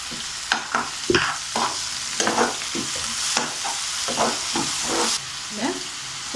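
Ground tomato paste hitting a hot pan of roadside-style mushroom masala, sizzling and frying while a spoon stirs with repeated scraping strokes, close and fairly loud.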